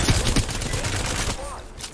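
Rapid close gunfire from a weapon in Apex Legends, a quick burst of several sharp shots over about a second and a half before it trails off.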